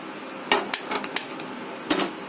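A flat iron griddle pan, the kind used for chapati, set down on a lit kitchen stove, giving several sharp metallic clanks and knocks spaced over a couple of seconds, close and otherwise quiet.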